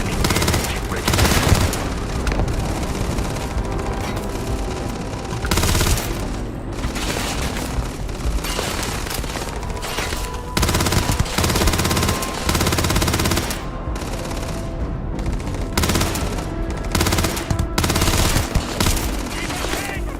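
A shotgun-like weapon fires in the space shooter Starfield, loud booming blasts and rapid gunfire filling the whole stretch, dense and continuous with brief gaps.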